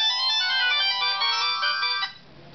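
Mobile phone ringtone playing loud and close as the boss calls, a bright repeating melodic tone for about two seconds before it cuts off.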